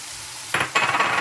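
Rice is stirred through a sizzling pan of sautéed tomato and chili, giving two quick scraping strokes over a faint frying hiss, close and fairly quiet with no talking.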